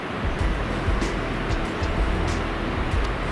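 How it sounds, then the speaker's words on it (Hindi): Steady broadband rush of a mountain waterfall at a Himalayan trek campsite on the Hamta Pass route, continuous and fairly loud with no voices over it. "वो रहा वाटरफॉल, सुंदर सा वाटरफॉल"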